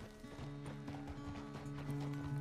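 Horse hooves clip-clop in a steady rhythm in the Red Dead Redemption 2 video game, faint and quiet beneath a constant ambient bed of game sound.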